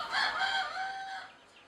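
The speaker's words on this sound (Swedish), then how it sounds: "vi har lyxen av att ha en population här med röda djungelhöns som vi har i fångenskap" A captive red junglefowl rooster crows once, a single drawn-out call that rises and then trails off, fairly close and clear over a quiet background.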